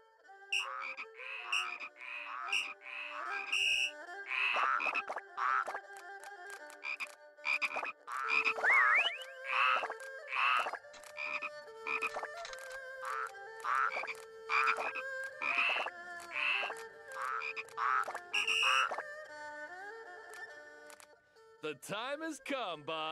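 Repeated frog croaks in quick bursts in the video game Shenmue III, mixed with game-like tones and a voice speaking at times, fairly close and steady for a long stretch.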